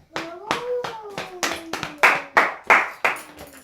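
A church congregation claps in praise, about ten sharp hand claps in a steady, slightly quickening rhythm, loud and close, with a voice calling out between them.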